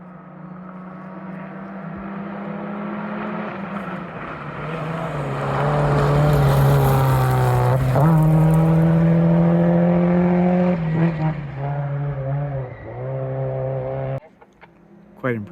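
Rally race cars on an Ontario stage, let out at one-minute intervals, roar close by with a loud revving engine, audible gear shifts and pitch drops, before the sound falls away near the end.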